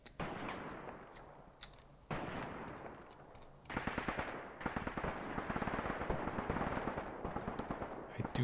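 A machine gun fires in Graviteam Tactics, at first distant and muffled, then louder rapid bursts of steady rattling shots that carry on over a constant background rumble.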